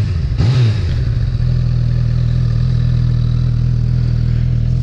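A 2018 Honda CB1000R with its stock exhaust idles close by, giving a steady, deep, throbbing rumble with a brief blip at the start. No one speaks.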